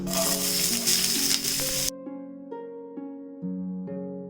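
Chopped onion drops into hot oil and sizzles loudly and close for about two seconds, then the sound cuts off abruptly and tonal music follows.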